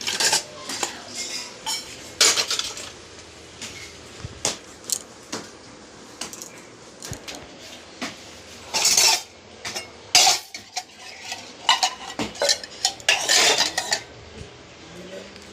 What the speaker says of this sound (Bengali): এখন এই যে বাসনগুলো গুছিয়ে রাখছি একটা জায়গায় রেখে